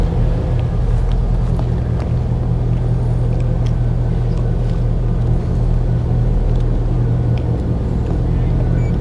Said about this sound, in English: we're just going to bring the boat back in on the engines now